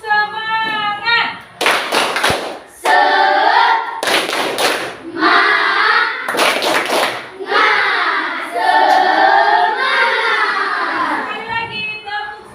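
A school class of children does a rhythmic group spirit clap, several sharp bursts of clapping in unison alternating with the whole class chanting and speaking together, loud and close.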